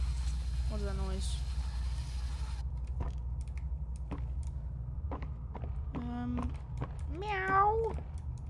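A person's voice imitates a cat meowing, with several separate drawn-out meows spread across the stretch over a low steady background hum, the last one rising and falling more loudly.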